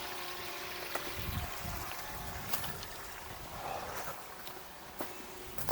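A water fountain runs steadily in a duck race, a continuous broadband wash of falling water with occasional faint knocks and splashes, mid-distance and alone.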